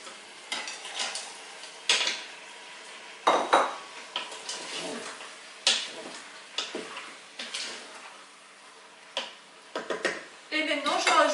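A spoon stirring ingredients with white beans in a cooking pot, clinking and scraping against the metal in short irregular bursts, fairly quiet and close.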